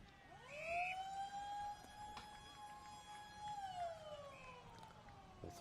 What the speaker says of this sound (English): Final siren of the quarter, I should say. There's the siren here at quarter time.